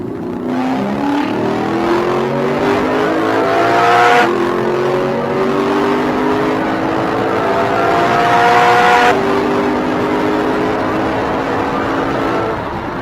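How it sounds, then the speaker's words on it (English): A Lexus GS F sports sedan engine revs hard, pitch climbing steeply through gears twice with a short drop between, loud and close. "When you floor it, it's a very peaky engine. It wants to be revved out."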